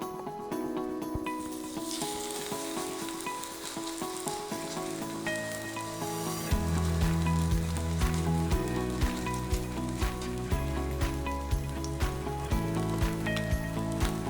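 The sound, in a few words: Korean pancake with shrimp frying in oil in a pan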